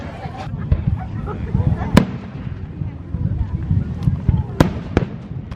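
A fireworks show pops with a handful of sharp, scattered bangs and crackles at a moderate distance, set against a murmuring crowd and people talking.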